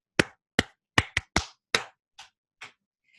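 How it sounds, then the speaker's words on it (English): A teacher claps out a call-and-response rhythm in a classroom: eight sharp, distinct hand claps in an uneven pattern, the last two softer, played alone with no talking. "One of the things that I did is I had a clap"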